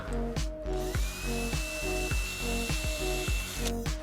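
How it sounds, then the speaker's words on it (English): A small, very thin drill whirs steadily while boring a small hole, with a rhythmic ratcheting pulse about twice a second, close and continuous, with a faint high whine running through it. "I use this very thin drill here to drill a small hole"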